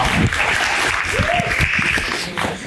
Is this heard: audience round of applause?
yes